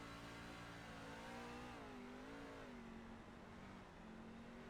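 A dirt-track race truck engine at Eldora, heard from on board, holds a steady loud drone with its pitch dipping and rising as the driver eases the throttle.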